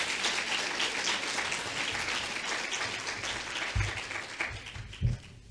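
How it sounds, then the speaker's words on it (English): A crowd applauds steadily, a dense wash of clapping lasting several seconds, with a few louder claps standing out near the end. "That kind of presentation by the president of the JTA needs a better round of applause."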